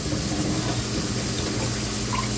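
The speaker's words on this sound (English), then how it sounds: "so you just drain the water out." Water draining out of a package of soy tofu, a steady continuous watery rush running alone throughout.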